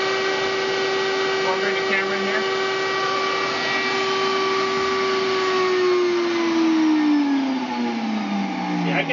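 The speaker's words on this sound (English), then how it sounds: "just turn on the shop vac, and you can see by regulating the power, it'll adjust the speed of the shop vac" A shop vac at a dental clinic in Haiti drones loudly and steadily with a whining motor tone, the pitch holding then dropping as its power is turned down.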